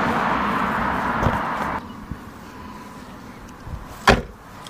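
A turbocharged Mazda MX5's car door shutting, a single solid thud near the end after a stretch of steady ambient noise.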